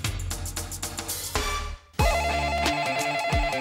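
A telephone rings in a radio advert for a roofing company phone line, repeated electronic ringtone bursts with a brief gap, then a sustained warbling tone over backing music, loud and close with no talk.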